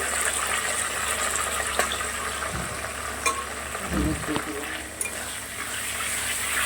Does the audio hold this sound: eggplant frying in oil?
yes